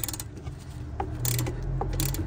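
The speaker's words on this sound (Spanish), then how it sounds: "Vamos a utilizar la breaker bar y aflojamos." A breaker bar loosens a suspension nut while shock absorbers and strut mounts are replaced on a VW, giving a run of close, dry metallic clicks and creaks with no talking.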